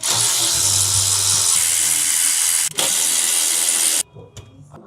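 Steady hissing, whirring tool noise, likely a power ratchet or impact driver backing out the three bolts holding a car's VTEC solenoid, runs loud for about four seconds with a brief dip, then cuts to quieter clicks and handling.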